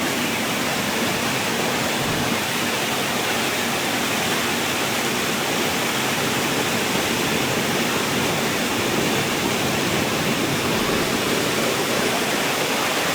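Small waterfall on a bush trek in the Blue Mountains, Australia, a steady broadband rush of falling water that stays loud and unbroken throughout, with no voices.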